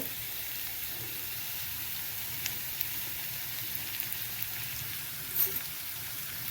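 Curry leaves sautéing in a pan, a faint, even hiss of frying with occasional small pops, steady and low with no voices.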